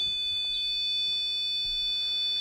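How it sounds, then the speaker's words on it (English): A REM pod ghost-hunting device gives off a steady, piercing electronic tone in a quiet room during a paranormal investigation, sounding continuously and close by. "make that REM pod change colors and beep"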